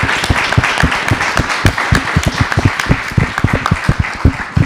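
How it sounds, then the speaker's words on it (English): An audience at an arts talk event in London gives a round of applause, many hands clapping in a loud, steady patter with distinct individual claps standing out up close. "a nice round of applause for everybody"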